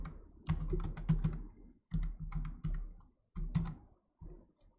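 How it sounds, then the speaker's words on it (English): Typing on a computer keyboard in short clustered bursts of crisp key clicks separated by brief pauses, close and fairly quiet, with no voice. "I'm going to type forgot password."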